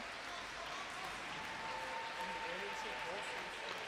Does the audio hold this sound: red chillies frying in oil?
no